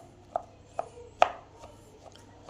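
Sweet potato being cut into small pieces on a board, with a knife landing in sparse, separate chops about half a second apart, one louder stroke among them, close and crisp over a quiet background.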